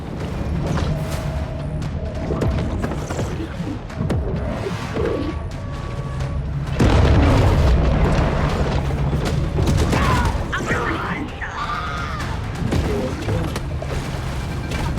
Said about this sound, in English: There's a grenade